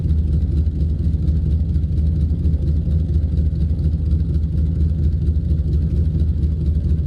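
A de Havilland DHC-2 Beaver piston engine idles steadily in a flight simulator, a continuous low, even drone with no other sounds over it.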